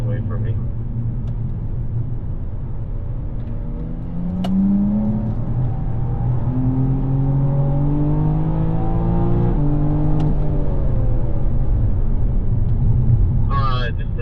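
A BMW M4 GT4 race car engine drones on a racetrack, rising and falling through gears in long sweeping pulls with a steady rumbling whir, heard from inside the car under a driver's ongoing commentary.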